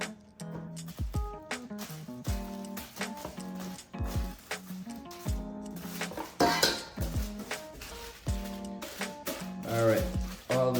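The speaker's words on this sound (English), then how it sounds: "let's just add all of our jackfruit in first" Jackfruit pieces are tipped into a cooking pot for vegan oxtail, making repeated close metallic clatters, clinks and soft squishes in an uneven rhythm with spoon knocks.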